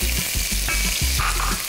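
Chopped onion drops into hot oil and sizzles steadily, a loud continuous crackling fry with faint stirring underneath.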